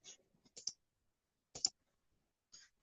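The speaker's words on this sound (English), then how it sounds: "I'll type in 44 and click Enter." Several sharp keyboard and mouse clicks spaced irregularly, close and quiet, with short silent gaps between them while entering a number and pressing Enter on a computer.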